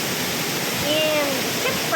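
A man-made waterfall at a bird park gives a steady, even rush of falling water close by, with faint bird calls and a person's voice nearby.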